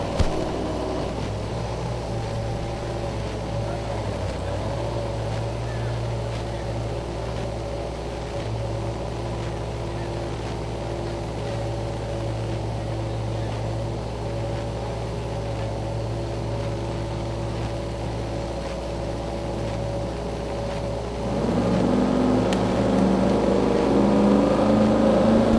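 A 1992 Camaro drag car with a 525 cubic inch twin-turbo engine from JD Automotive idles with a steady low rumble, then revs up louder near the end at a drag racing event.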